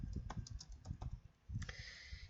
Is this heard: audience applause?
no